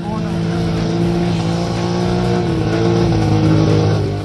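Motorcycle engines at an international dirt track race in Moodbidri, India drone and whine loudly and continuously, a steady roar of several motors at once with no pauses.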